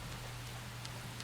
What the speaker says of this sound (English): There is literally nothing out here but rain.